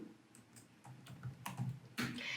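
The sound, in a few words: typing on a computer keyboard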